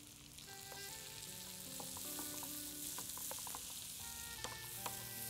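Garlic and onion sauté in melted butter in a pan, giving a steady, close sizzle and crackle throughout with scattered light pops and occasional utensil stirring, and no voices.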